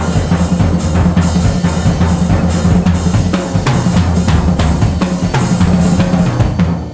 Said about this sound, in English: I will do what's called a splash on the hi-hat.